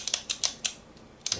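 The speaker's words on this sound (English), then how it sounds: "But you still get that one, two click feedback." Light, crisp clicks from a Shimano XTR Di2 electronic bicycle shifter, pressed with a finger in quick paired bursts; about six sharp ticks in pairs, close and quiet with no talking.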